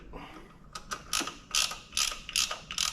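A ratchet tightens oil filter housing bolts on a Chrysler 3.6L Pentastar V6, giving repeated short bursts of close, crisp clicking, about seven strokes in quick rhythm.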